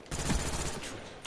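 Gunfire in the video game Call of Duty Black Ops: a dense burst of rapid shots that stays loud and close for about a second, with no talking.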